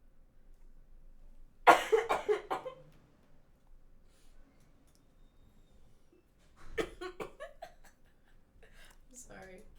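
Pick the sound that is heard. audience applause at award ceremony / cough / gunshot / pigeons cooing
cough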